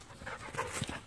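An Australian Shepherd dog pants close by on a beach, quick soft breathy huffs in an uneven rhythm over quiet background.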